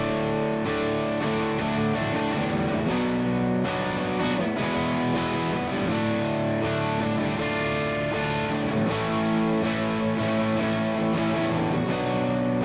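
Heavily distorted electric guitar through an amp simulator playing chords and riffs, thick and saturated with a warm, gritty tone, loud and steady throughout with no talking.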